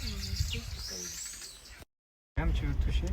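Birds call from nests in the trees with bright chirps and tweets, fairly close, mixed with speech and broken by a short silent gap.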